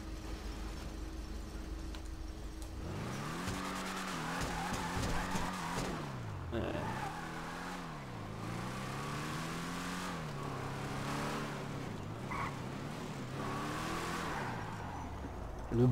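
A Vapid Peyote Gasser heard from the interior view in a video game. The engine revs up and down in repeated swells, a muffled, throaty rumble that rises and falls under faint background noise.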